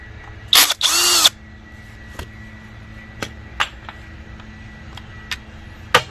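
A power drill backs out T25 bolts holding a 2-stroke engine's fuel tank, one sharp whirring burst followed by faint ticks and small knocks of parts being handled.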